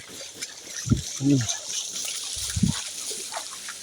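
Rain falls steadily on a flooded road in Feni, a soft, even hiss running throughout while a voice speaks briefly in low bursts over it.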